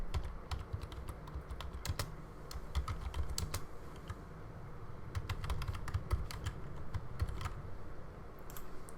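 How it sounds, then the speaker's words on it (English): Steady typing on a computer keyboard while entering a database query, many quick light key clicks in an irregular stream, close and fairly quiet, with no voices. "So let's type in the query."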